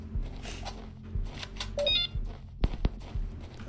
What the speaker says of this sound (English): that little beep noise indicates when you get a headshot